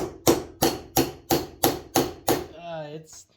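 A hammer strikes aluminum bronze seven times in a steady, even rhythm, each blow a sharp ringing clank, followed by a brief voice.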